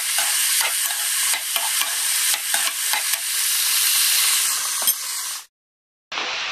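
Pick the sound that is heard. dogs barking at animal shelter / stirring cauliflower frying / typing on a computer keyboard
stirring cauliflower frying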